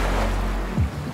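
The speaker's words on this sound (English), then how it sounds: "Is that why there's a little bit more splashing? Because the waves are going over the top of the reef?" Storm waves wash and splash over a reef in the Great Barrier Reef, heard as a loud, steady low roar of surf with broad churning water noise and a brief surge near the end, no talking.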